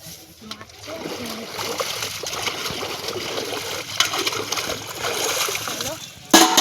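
Pots, utensils and a wok are scrubbed and rinsed in pond water outdoors, with irregular splashes, trickles and clinks close by under someone talking, ending in a sharper knock.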